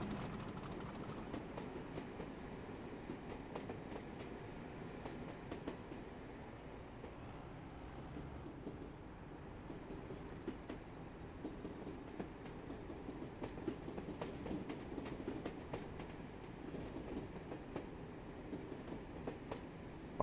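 An HST train with a few carriages runs steadily in a train simulator game, a continuous low rumble with rhythmic clicks of wheels over rail joints, fairly quiet throughout.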